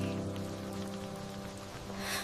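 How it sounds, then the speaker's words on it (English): Steady rain falling on surfaces, a soft continuous patter under sustained low background music tones, with a brief swell of hiss at the end. "The rain didn't stop that day"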